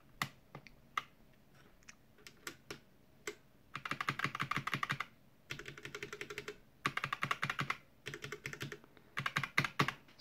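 Keys on a gaming keyboard with keycaps fitted are typed in quick bursts of clattering clicks, a few isolated taps first, then dense runs separated by short pauses, close and fairly quiet.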